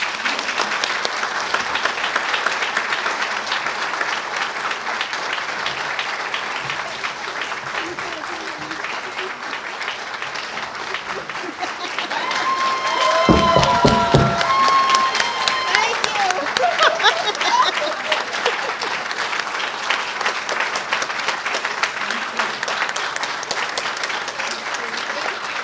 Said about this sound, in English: One more round of applause for Melanie McQueen